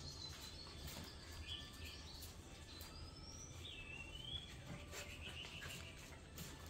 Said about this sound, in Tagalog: Narinig niya yung mga huni ng ibon.